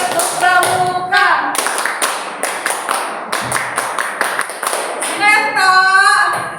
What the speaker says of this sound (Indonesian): Tepuk pramuka dulu.